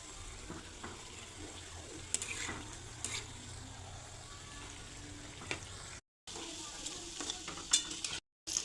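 Methi matri, fried Indian snack dough, frying in oil over a medium flame, a soft steady sizzle with scraping stirs and a few brief knocks from the utensil, fairly close and with no talking.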